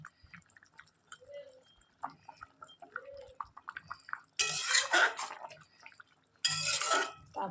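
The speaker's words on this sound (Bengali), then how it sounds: "চলো এই যে মাছগুলো এর মধ্যে দিয়ে দিই, দিয়ে একটু নেড়ে চেড়ে দিই।" Small fish go into a hot pan for a spicy fish dish and are stirred. Two loud bursts of sizzling erupt after a stretch of quieter scattered kitchen and background sounds.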